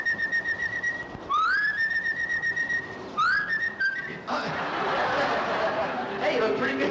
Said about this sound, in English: Whistle this bird down.